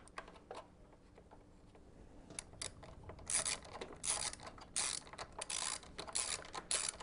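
Bolt being wound by hand into the threaded mounting hole for the rear brake master cylinder on a Triumph Sprint ST 955i motorcycle, close and quiet, with soft irregular metallic clicks and scrapes that grow into a series of brief ratchet-like bursts.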